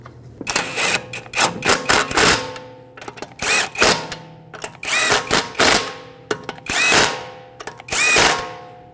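A power tool runs lug bolts down on a Mercedes-Benz GLC300 wheel in a cross pattern, firing in short loud bursts of whirring and rattling impacts, grouped in quick clusters with brief pauses between bolts.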